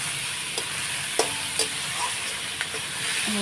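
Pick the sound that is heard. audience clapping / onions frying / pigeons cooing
onions frying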